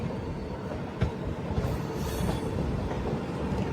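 A train rumbles steadily through Jhansi railway station, wheels clattering with a few sharp knocks and a brief squeal, close and continuous with no voices.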